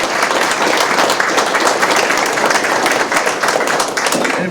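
An audience at a school board of education meeting gives a loud, sustained round of applause for a school team and its coaches, dense overlapping clapping filling the room without a break.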